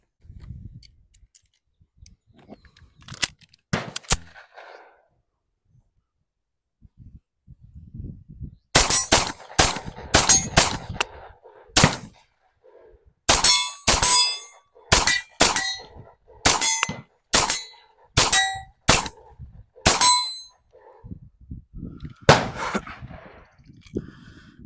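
Shots from a Tisas 1911 Carry B9R DS 9mm pistol ring out sharply, a few scattered at first, then strings of evenly paced loud reports, with metallic ringing after each.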